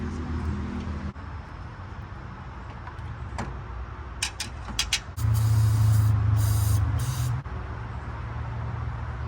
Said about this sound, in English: Alright, so brake clean, kind of cleaned it up a little bit